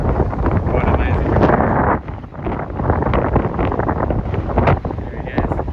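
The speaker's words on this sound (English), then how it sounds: "It's windy here" Strong wind buffets the microphone throughout on an exposed, barren alpine ridge along a hiking trail, a steady roaring rumble with gusty surges and a brief lull near the two-second mark.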